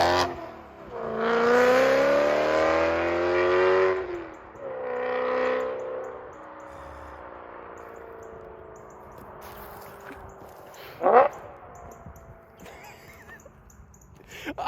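A straight-piped BMW E92 M3 roars past on an open road, its loud exhaust climbing in pitch as it approaches and dropping away as it passes. A second, quieter burst follows, and a sharp crack sounds near the end.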